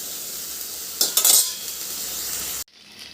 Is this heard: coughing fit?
no